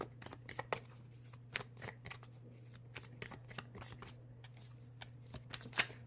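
Tarot cards being shuffled close up, a quiet series of papery riffles and soft slaps in uneven bursts over a low steady hum.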